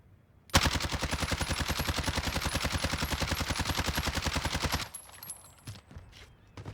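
Sustained automatic fire from an AMAX weapon in a first-person shooter video game, a rapid, evenly spaced burst of shots lasting about four seconds at a moderate level, followed by quieter scattered game sounds.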